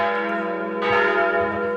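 Church bells ring loudly on a Sunday morning in Ålesund, Norway, from a fresco-decorated church with stained glass, rebuilt after the 1905 fire; a sustained, resonant peal swells with a fresh strike partway through, with no voices.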